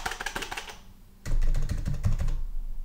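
Someone types on an HHKB Professional Hybrid Type-S keyboard in quick, muted bursts of close keystrokes. A short pause separates them, and the second burst has a deeper, thockier sound.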